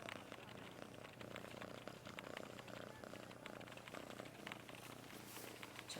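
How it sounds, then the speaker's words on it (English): A cat purrs loudly and steadily close by, a continuous low rumbling drone that runs for the whole stretch with no other sounds over it. "Loud cat."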